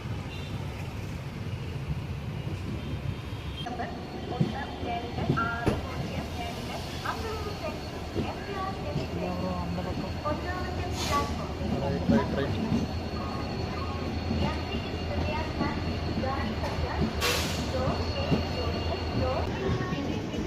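A Mangalore-Chennai Mail train with LHB coaches rolls along the rails near Kozhikode station, a continuous rumble and clatter of wheels under faint background activity, with a couple of brief high squeals.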